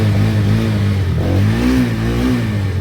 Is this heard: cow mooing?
no